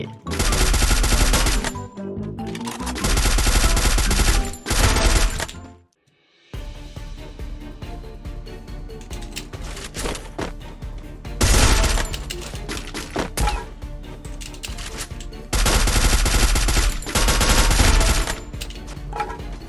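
Bursts of automatic gunfire from a Free Fire match, loud and dense in several long sustained volleys with a brief gap of silence between them.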